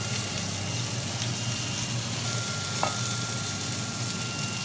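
A steady, even sizzle with faint bubbling as a cream and wine sauce for tiger prawns simmers and thickens in a hot grill pan, continuous and close with no voices.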